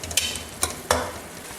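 Mutton frying with ginger in a karahi, a soft continuous sizzle broken by three sharp stirring scrapes of the spoon against the pan, close and without talk.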